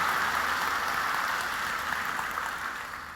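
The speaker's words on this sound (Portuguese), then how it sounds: "Pode aplaudir o Senhor" A church congregation applauds, a dense, steady wash of clapping that fills the space evenly and then begins to fade, with no voices over it.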